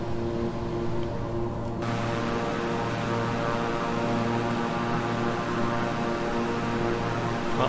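A Beechcraft King Air 350i twin-engine turboprop flying in Microsoft Flight Simulator, a steady droning propeller hum with layered engine tones, continuous and loud, with no voices.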